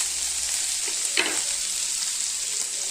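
Onion, ginger and garlic sauté in a pan on a stove with a steady, close hiss of frying and a brief stirring scrape partway through.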